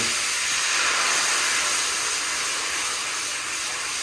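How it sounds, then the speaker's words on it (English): Red wine poured into a hot pan to deglaze it while making beef braciole gives a loud, steady, bright hiss of sizzling steam that holds evenly throughout without talking. "I'm gonna add a cup of red wine. I'm gonna deglaze the pan."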